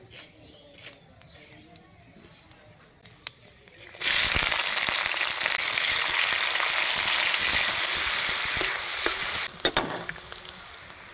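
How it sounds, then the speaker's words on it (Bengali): Onions sizzle in hot oil in a home kitchen pan while peas and kalai dal is being cooked. A hush of small noises gives way to a loud, steady frying hiss that runs several seconds and then cuts off abruptly. "পেঁয়াজটা এরকম ভাজা ভাজা হয়ে গেছে।"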